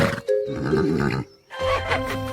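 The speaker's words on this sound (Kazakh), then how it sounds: "Бұл жылқы." A horse lets out a loud, close whinny in two bursts separated by a brief pause, harsh and wavering.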